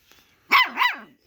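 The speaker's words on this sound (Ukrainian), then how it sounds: "Хто так гавкає?" Two sharp, loud Laika dog barks in quick succession, close by, with near silence around them.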